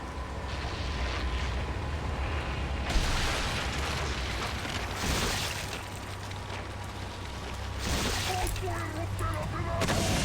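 Gunfire booms in the video game Resident Evil 4, several heavy bursts spaced a few seconds apart over a low rumbling game soundscape, with possible voice in the background.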